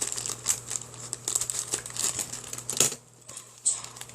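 Crinkly plastic Lego set packaging being torn and crumpled up close, in a series of sharp rustling bursts with a brief pause near the end.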